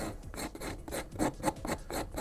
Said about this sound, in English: but you can definitely do it with a file